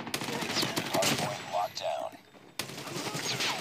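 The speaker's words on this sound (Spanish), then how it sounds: "Uy, pero hay una ametralladora ahí." Rapid gunfire from a machine gun in Call of Duty Mobile, dense bursts of shots filling most of the stretch with a short gap before firing resumes, while a player's voice talks briefly over it.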